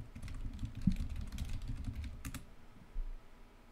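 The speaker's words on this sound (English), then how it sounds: "You want to know how this sounds when you slap your dick on a keyboard?" Computer keyboard being slapped and vibrated on, producing a quick flurry of soft clattering key hits for about two and a half seconds, then a brief thump before quiet.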